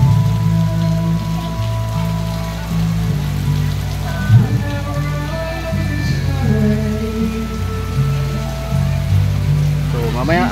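Steady rain patters and splashes on surfaces at night at a swimming place in Marikina, with a continuous wash of drops while people talk and sing in the background throughout.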